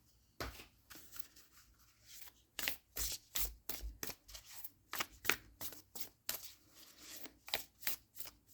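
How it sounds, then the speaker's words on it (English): Moonology oracle cards are shuffled by hand in quick, close, crisp riffling bursts and soft slaps, about a dozen uneven flutters, quiet overall and with no one speaking. "let's get some more cards here. Get a Moonology card."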